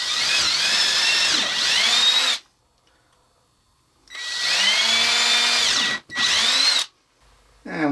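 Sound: power drill drilling holes in wood

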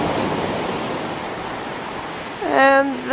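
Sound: waves on the beach at Aberystwyth, Wales

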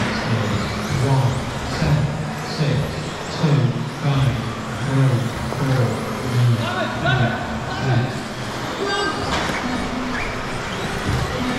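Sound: Schumacher Cougar LD2 RC cars racing

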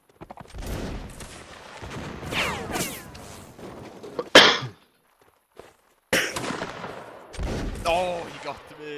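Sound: musket gunfire in video game Mount & Blade Napoleonic Wars

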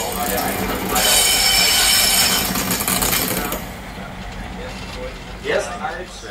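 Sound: DB class 103 electric locomotive arriving

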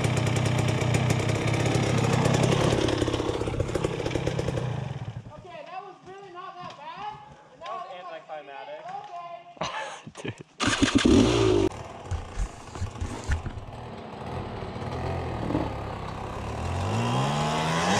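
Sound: dirt bike engine revving on throttle

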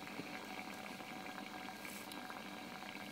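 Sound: water heating around carbon fiber HHO electrodes

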